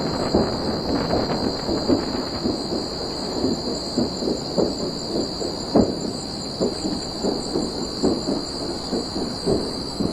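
Distant low rumbling with scattered pops and crackles over a steady hiss, irregular bursts continuing throughout, from SpaceX Starship 36 debris cooking off after its explosion.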